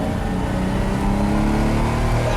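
A Lamborghini Miura's engine roars loud and close, a steady heavy drone of revs with a rich low rumble and no voices over it.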